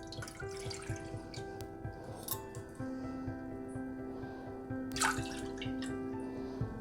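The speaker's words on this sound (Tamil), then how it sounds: "1/2 கப் பால் ஊற்றிக்கலாம் ஸ்டவ்வில்." Half a cup of milk trickles and drips into a pan on the stove for custard, a soft, close liquid pour with light clinks over a steady low hum.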